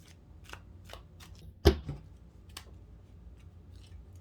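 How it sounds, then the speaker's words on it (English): Several soft, papery riffles of tarot cards being shuffled, with one sharper slap in the middle, close by and fairly quiet with no talking. "Let's do 3 shuffles on this one."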